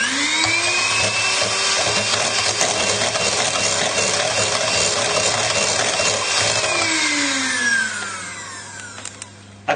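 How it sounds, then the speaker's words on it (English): A whisk beats a lemon curd soufflé mixture with a loud, steady, motor-like whir that winds down and stops near the end. "we're just going to whisk this together"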